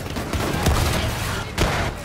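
Battlefield 1 campaign gunfire during a muddy trench battle: a dense fusillade of overlapping shots with two heavier bursts, loud and close, with no talk over it.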